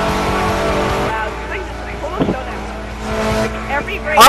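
Ferrari racing engine in Forza Horizon, a steady high-revving drone with tire squeal and skid bursts near the end, loud and close, with players talking and exclaiming over it.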